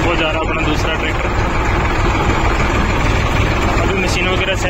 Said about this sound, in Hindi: वो जा रहा अपना दूसरा ट्रैक्टर,